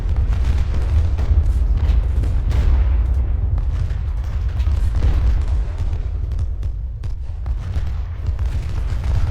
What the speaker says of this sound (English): Having them cannons fire at you.